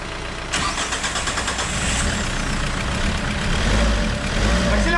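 A car engine starting after an engine swap: brief cranking, then a close, rough idle that runs unevenly and gets a little louder near the end.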